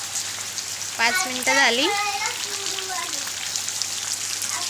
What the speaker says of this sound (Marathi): बघा पाऊस पडते तर साचलंय पाणी थोडं थोडं